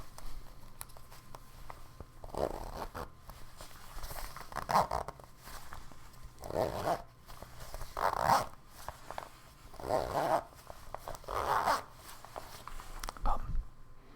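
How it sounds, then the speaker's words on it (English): A zipper is pulled up and down slowly in a quiet ASMR setting. Its rasping strokes repeat about every couple of seconds, close and soft, over a faint steady background. "zipper."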